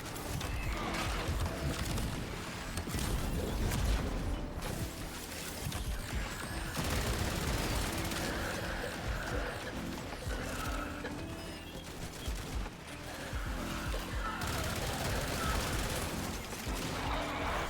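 Rapid bursts of gunfire from the player's own weapons in a shooter video game, a dense, continuous clatter of shots running throughout with fluctuating intensity and no talk.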